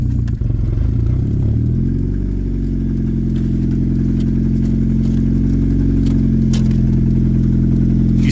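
A Suzuki car engine runs steadily after a restart with a deep, continuous hum and faint clatter. It sounds rough and unable to idle on its own, and stays loud and close for the whole stretch.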